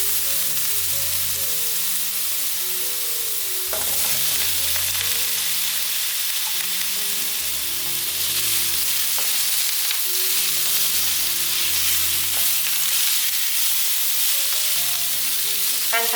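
Diced potatoes and minced celery crackle in a pan for a vegan home-style dish: a dense, continuous sizzle with periodic clattering strokes of a spatula, close by and free of talk.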